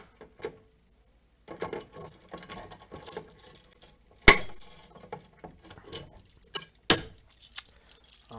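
Keys jangle and clink in bursts as a bunch is grabbed, with two sharp metallic chinks standing out over short rustling handling sounds and quiet gaps.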